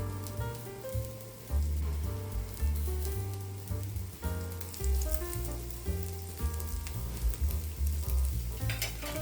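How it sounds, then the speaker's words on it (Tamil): A beetroot cutlet fries in oil in a pan, giving a steady close sizzle with crackling textures throughout, alone with no talk. "பேனில் இந்த கட்லெட்டை வச்சு நல்லா எண்ணெயை கொஞ்சம் ஊற்றி 2 பக்கமும் பரட்டி"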